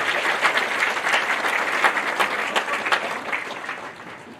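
A graduation audience at an outdoor high school ceremony breaks into steady applause for the custodial staff, many hands clapping densely and continuously before tapering slightly toward the end.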